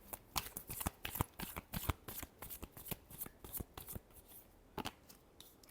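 Tarot cards being shuffled by hand in rapid, papery riffles and flutters, close and crisp, with short pauses between bursts and no talking.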